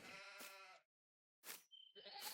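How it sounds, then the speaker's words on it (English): Sheep bleating in the farming game Farming Simulator 19, heard as a long wavering bleat, a pause, then a shorter bleat and a third call, close and loud with no talk. "Here we have our sheep and goat area."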